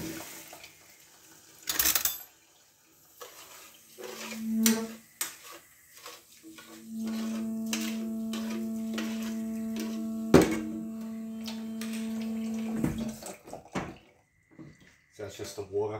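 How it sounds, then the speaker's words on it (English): Tap water runs in a home kitchen sink in a steady stream, with a few clatters and knocks of dishes and drawers around it, while a person talks nearby about cooking rice from a packet. "That's just the water"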